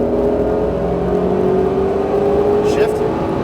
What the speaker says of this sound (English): Now accelerate out of the corner.